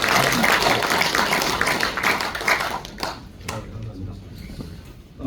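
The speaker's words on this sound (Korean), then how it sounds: "뜨거운 박수로 환영해 주시기 바랍니다" Applause from an audience at a church elders' association lecture event welcoming a speaker, dense clapping for about three seconds that fades into a few scattered claps and room noise.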